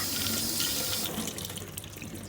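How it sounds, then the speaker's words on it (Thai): Tap water runs steadily from a faucet into a sink as a rag is wetted, a close, continuous splashing hiss that changes tone partway as the cloth goes under the stream. "ต่อมาเป็นการซักผ้าขี้ริ้วจากก๊อกน้ำนะคะ"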